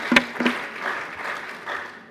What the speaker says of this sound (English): Clap for them, first of all, for having that confidence.